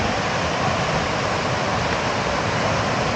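Water rushing over a dam beside a washed-out river trail: a loud, dense, continuous roar with no pauses or breaks, heard close by and on its own.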